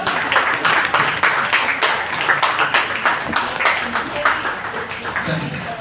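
An audience at a Hindi poetry gathering held for Martyrs' Day claps steadily for several seconds, close and fairly loud, with voices mixed in under the applause.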